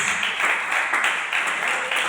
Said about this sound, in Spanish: Dele ese aplauso al Señor, hermano